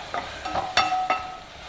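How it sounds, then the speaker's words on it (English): Chopped tomato and onions frying in a pan for an urad dal adai chutney, stirred with a utensil: a few sharp scrapes and clinks over a soft, steady sizzle, close by and with no talking. "add in 1 chopped tomato and fry that also till the tomatoes become nice and soft and mushy"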